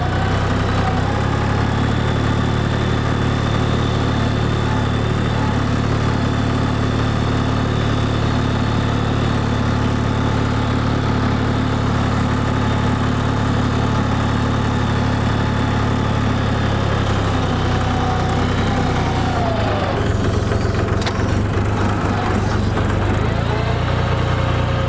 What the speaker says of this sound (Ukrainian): покажемо, як працює наш тракторок із такою фрезою